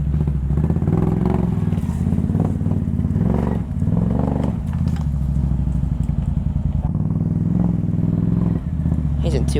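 A Can-Am XMR 700 four-wheeler bogged in mud in the woods, its engine revving hard and steadily up close, with clattering from the machine and people talking over it.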